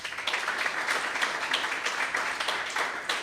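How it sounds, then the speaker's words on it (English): A room of attendees at a growth coalition workshop dinner claps together, a continuous even patter of many hands at moderate volume, with no voices over it. "I think we must give the government a big round hand of applause."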